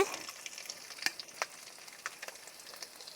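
Crushed ginger sizzles in a pan over medium heat while rasam is made: a soft, steady frying hiss with a few small crackles and pops, heard alone.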